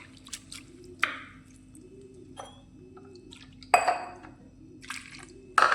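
Poha being gently washed by hand in a bowl of water gives soft squishes and splashes with drips in between. The irregular bursts come close up against a quiet background, with no talking.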